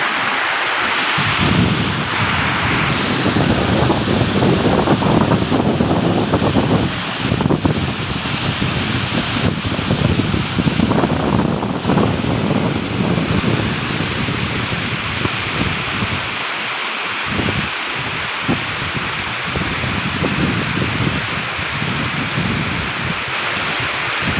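Water rushes at Anaimedu falls near Tharamangalam in Salem. It makes a loud, continuous roar of falling water with gusty wind buffeting the microphone, and no voices can be heard over it.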